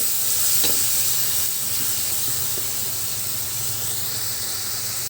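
Meat sizzles in a hot pan while its fat renders out, the start of a Japanese ramen; a steady close hiss with a brief louder spatter near the start, no voices.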